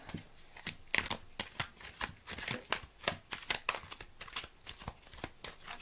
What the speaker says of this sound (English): I'll do a quick hand shuffle.